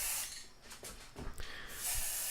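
Aerosol spray paint hisses steadily onto the bare wooden arrow wells of a homemade ITG2 dance pad on a porch, in long broadband bursts with brief pauses and a few soft clicks between passes.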